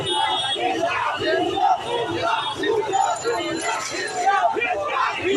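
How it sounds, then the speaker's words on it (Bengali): Crowd of protesters in Shahbag, Dhaka, chanting slogans at police during a student protest, a dense rhythmic roar of many voices repeating a short two-beat chant, loud and steady throughout. "পুলিশকে দেখে কিন্তু ভুয়া ভুয়া স্লোগান দিচ্ছেন"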